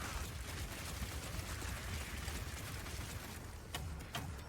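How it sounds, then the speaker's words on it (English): Crossbow grenades from Power Shot burst in Path of Exile, a dense, continuous crackling barrage of explosions that fills the whole stretch at steady loudness, with a few sharper cracks near the end and no voices. "crossbow, shoot out a bunch of grenades,"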